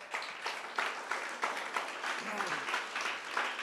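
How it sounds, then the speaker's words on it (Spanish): A church congregation claps in praise, steady rhythmic clapping in repeated beats that fills the hall, with a voice faintly audible underneath. "Palmas al nombre del Señor."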